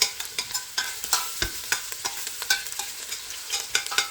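Potato pieces fry in a pan for fish soup and are stirred over and over. Steady sizzling runs under frequent scraping strokes of a spoon or spatula, close and clear, with no talk.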